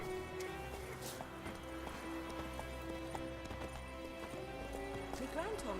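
Hoofbeats of a horse galloping in The Witcher 3, a steady rhythmic clip-clop under game music and combat noise, with a voice speaking over it.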